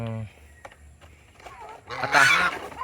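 Guineafowl call while being fed, a harsh, raspy honking chatter that swells loud and close toward the end over low background noise and faint talk.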